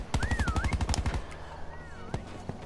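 Rapid automatic gunfire in the Black Ops 4 prop hunt mode, a dense run of about a dozen close, loud shots in the first second, then scattered fainter shots, with game sounds continuing around them.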